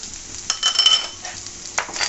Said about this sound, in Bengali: এগুলো আমি ভালো করে ভেজে নেব, একটু সোনালি কালার করে ভেজে নেব।